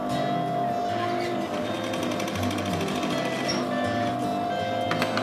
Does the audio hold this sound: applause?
no